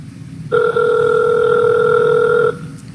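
Telephone ringback tone on an outgoing call: one loud, steady two-second electronic tone, clear and alone over a low background hum, then quiet.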